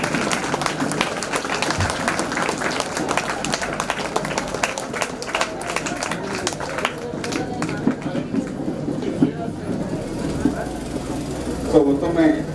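School audience at a Founder's Day event claps loudly and steadily to welcome the institution's secretary, a dense crackle of applause that fades gradually toward the end while a voice speaks over it.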